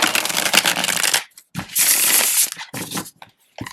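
A deck of tarot cards is shuffled by hand at close range, with brisk riffling bursts, short pauses and a final tap, alone with no talk.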